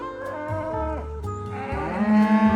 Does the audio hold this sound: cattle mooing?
yes